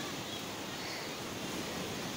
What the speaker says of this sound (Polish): A za chwilę za nią taka wielka fala.